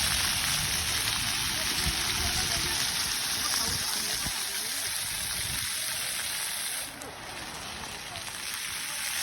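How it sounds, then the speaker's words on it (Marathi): Steady rushing water from a waterfall at The Pearl, Qatar, a continuous broadband roar filling the whole stretch, with people talking over it nearby. "हा बघा इथे वॉटरफॉल आहे"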